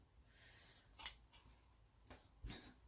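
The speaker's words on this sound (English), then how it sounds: "now we just carefully snip the corners" Scissors snip the fabric corners of a sewn bag in a few quiet, separate cuts, one sharper click standing out, against an otherwise near-silent background.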